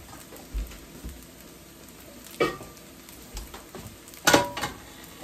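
Fried rice stir-frying in a home kitchen pan, with a soft steady sizzle broken by a few louder scraping, clattering stirs.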